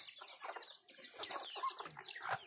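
Hybrid jungle fowl chickens cluck and chatter close by in a rapid, overlapping series of short calls, fairly faint and with no talking.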